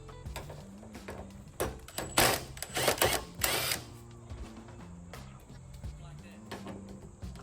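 Power impact gun on its lowest setting undoing fasteners on a BMW M3 during a fire extinguisher kit install, several short whirring bursts in the middle over a low garage hum, fairly close.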